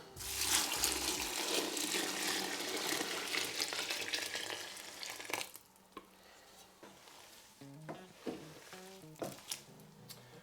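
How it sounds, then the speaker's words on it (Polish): Hot water, about four litres at roughly 75 °C, is poured over spent grain mash while brewing homemade beer: a loud, rushing splash for several seconds, then quieter scattered drips and small knocks. "Wylewam tutaj 4 litry wody."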